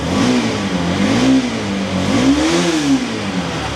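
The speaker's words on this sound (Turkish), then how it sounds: "Sesini daha doğrusu duyuyorsunuz silindir cılız bir motor" Bajaj Pulsar RS 200 motorcycle engine running close by, a steady loud mid-pitched hum that rises and falls gently in revs throughout.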